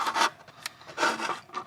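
A drill bit bores holes in the plastic body of an Axial SCX24 C10 RC truck, giving short, close rasping bursts separated by brief pauses.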